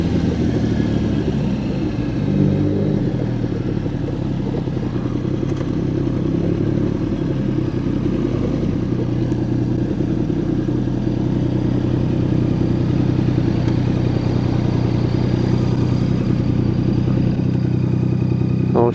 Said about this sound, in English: I really want to pull it up here by the petrol station, just let that police biker go past.